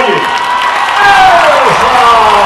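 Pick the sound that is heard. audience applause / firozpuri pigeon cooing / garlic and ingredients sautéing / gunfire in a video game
audience applause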